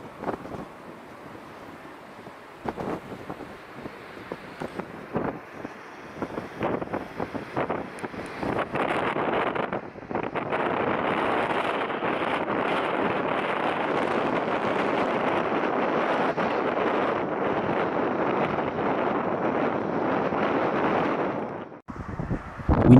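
Strong wind gusts roar steadily during a KLM Boeing 737 crosswind landing in Amsterdam, a loud broadband rush that builds after a quieter start and holds almost unbroken before cutting off near the end.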